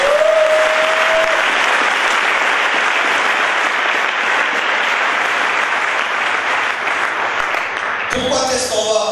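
A church congregation applauds loudly and steadily for several seconds in praise of the Lord, a dense continuous clapping that ends abruptly as other sounds come in.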